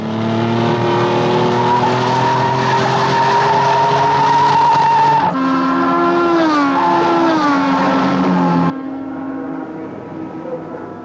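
Brain's racing car from the 1965 Thunderbirds audio drama at Parola Sands, engine roaring loud and steady with rising, sliding pitch as the tyres skid, then dropping to a lower drone near the end.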